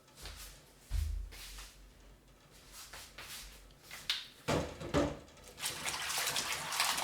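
Warm water runs and splashes as a small cup is washed at home, with intermittent gushes from a tap, clinks and a louder stretch of running water toward the end.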